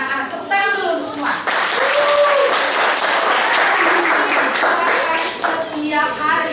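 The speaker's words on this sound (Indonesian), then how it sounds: "Kita anak-anak tepuk tangan dulu untuk semua." Broadband clapping from a group of children in a classroom fills the middle of the clip, bracketed by a teacher speaking Indonesian before and after.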